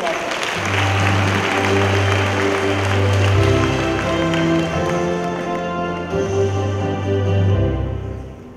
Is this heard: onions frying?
no